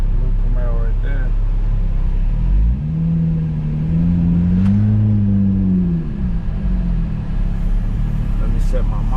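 A car engine runs at a muffler shop with a loud low idle, and the revs swell and fall once in the middle. People talk near the start over the engine.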